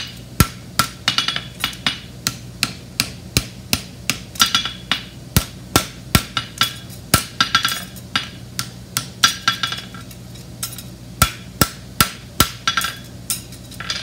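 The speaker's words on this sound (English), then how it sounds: "use the round side of my hammer and just get that to where it lines up" Sharp ringing hammer blows strike a hot steel horseshoe in a steady rhythm, dozens of close, loud hits with brief pauses between bursts.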